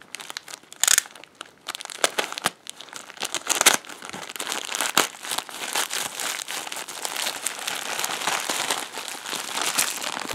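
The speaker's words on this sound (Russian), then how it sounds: "Вот получил несколько посылок из Китая. Сейчас буду их открывать." Plastic parcels shipped from China being torn open, with dense, continuous crinkling and crackling of packaging, close and fairly loud, punctuated by sharper rips and crunches throughout.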